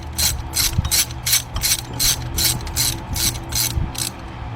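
A ratchet clicks in a quick, even run of about a dozen sharp strokes, close and loud, as a hose fitting is tightened on the 3.6 engine of a 2005 Cadillac CTS.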